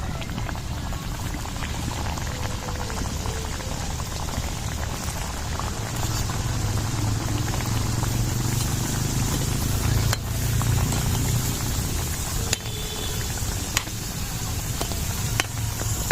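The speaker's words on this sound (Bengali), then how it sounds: "তেলটা গরম হয়ে গেছে, পিঠেগুলো এবার দিয়ে দিচ্ছি।" Palm-fruit pitha fry in hot oil, a steady dense bubbling crackle that continues evenly throughout, close and moderately loud with no talk.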